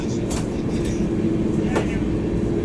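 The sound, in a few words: Kalka Mail (Netaji Express) train running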